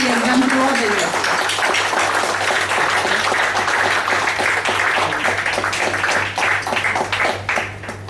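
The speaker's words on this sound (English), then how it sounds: "Please give a thunderous round of applause to our treasurer, Toastmaster Ankappa" A crowd at a Toastmasters installation ceremony applauds the club treasurer in a broad, sustained wash of clapping over a low steady hum, with a voice briefly audible at the start and the applause thinning near the end.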